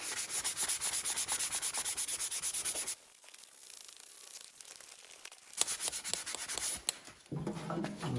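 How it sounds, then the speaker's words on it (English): Rapid back-and-forth rasping of 600-grit sandpaper on a primed Honda XR500 part, loud and steady in two long bursts separated by a quieter pause. "I'm going to sand it again with 600 to make it a little smoother"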